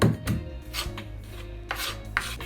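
Ingredients for beef liver fry being lightly crushed by hand, a few close, soft rubbing and grinding strokes in short bursts with pauses between.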